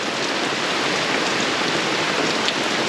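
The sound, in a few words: heavy rain falling at campsite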